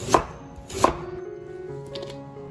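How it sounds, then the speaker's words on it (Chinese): A knife slices through ginger on a cutting board: two sharp close chops, then a faint scrape and light board contact. "我们来把姜切成片"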